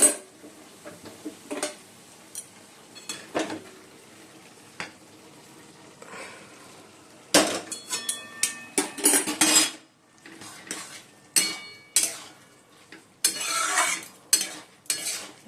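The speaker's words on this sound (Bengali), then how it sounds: "চিংড়ি মাছগুলো এর মধ্যে ঢেলে দেবো" Metal utensils clatter and scrape against a pot as prawns are stirred in, in bursts of stirring, with brief quiet stretches between the louder, busier scraping.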